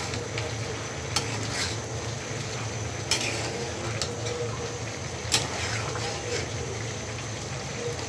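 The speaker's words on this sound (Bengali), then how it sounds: "লাস্ট একবার নেড়ে দেই, তারপর আমি চুলাটা বন্ধ করে দিব।" Chinese-style vegetables being stirred in a frying pan, a steady sizzle with a few sharp clinks and scrapes of the utensil against the pan, close up, with a voice speaking quietly over it.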